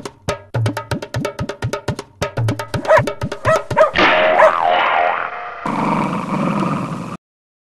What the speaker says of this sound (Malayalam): പട്ടി വരുന്നേ. അയ്യോ രക്ഷിക്കണേ.